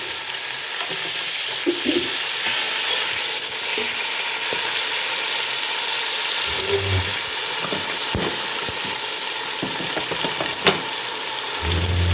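Butter sizzling and frying steadily in a hot pan while matar pulao is being cooked, a continuous loud hiss with occasional stirring knocks and scrapes, no talking.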